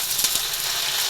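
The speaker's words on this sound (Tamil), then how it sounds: "5 தக்காளி எடுத்து பழமாக எடுத்து நறுக்கி போட்டுருக்கோம்" Chopped tomatoes hiss and sizzle in hot oil in a pan for a fish curry, a steady close frying crackle with a few light stirring knocks.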